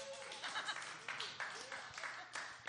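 Audience clapping at a brass concert, moderately quiet and steady over a couple of seconds, with a voice talking over it.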